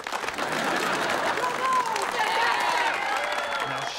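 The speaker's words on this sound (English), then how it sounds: "Applaud like you were moved." A studio audience claps steadily at a comedy show, dense applause that stays near and even for the whole stretch, with voices and some cheering mixed in.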